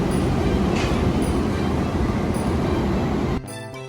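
The Vivek Express from Kanyakumari to Dibrugarh rumbles steadily along the rails, loud and continuous, before it drops suddenly to a quieter hum near the end.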